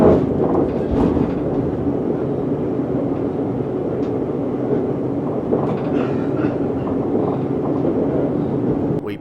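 An electric train on the Watford DC Line rumbles steadily along the tracks from inside a carriage, loud and continuous, with faint rhythmic clacks and rattles beneath the drone.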